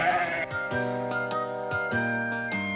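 Gomer Goat from the Hi-Ho! Cherry-O VCR game bleats in a string of evenly spaced, tuned, cartoonish calls, clear and close with nothing else over them.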